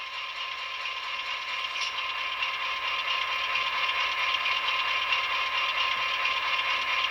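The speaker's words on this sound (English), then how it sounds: "F7 manual compressor." A steady mechanical rattling hum from a DCC sound decoder's manual air compressor on a Walthers Proto GP9 Phase II model locomotive with ESU LokSound, continuous and even throughout with no voices.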